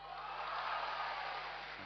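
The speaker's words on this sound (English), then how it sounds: "Please clap." Crowd clapping and cheering at a talk to vote on a destination, a steady, fairly distant wash of sound throughout.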